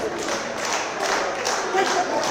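A wrestling crowd at a CCW Bash 46 show in Hialeah, Florida claps in a steady rhythm for Cruz, the beats filling the arena under commentary.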